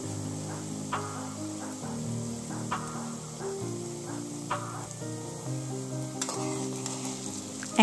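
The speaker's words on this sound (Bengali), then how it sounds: "দেখছো কি সুন্দর পিঠেগুলো ভাজা হচ্ছে।" Gokul pithe frying in a pan of hot oil give a steady, close sizzle with soft crackles and occasional stirring clinks throughout.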